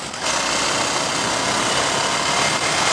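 A Ducati Scrambler Icon motorcycle idles in neutral, its engine holding a steady, loud rumble close by with a constant rushing noise and no change in pace.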